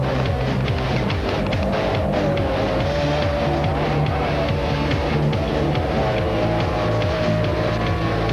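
F1 powerboats race on open water with a continuous loud, high outboard engine drone, buzzing steadily at close range throughout without a break.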